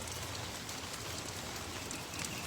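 Heavy rain falling outside, a dense, steady, loud hiss of drops hitting surfaces without pause or voices.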